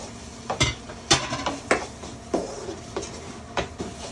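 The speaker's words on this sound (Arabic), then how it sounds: "ودلوقتي هنزل بالطماطم اللي انا مقطعها مكعبات اهي" Diced tomatoes go into a pan for a homemade pizza sauce, with a series of close metallic clinks and scrapes from a utensil against the pan, spaced irregularly with no talk.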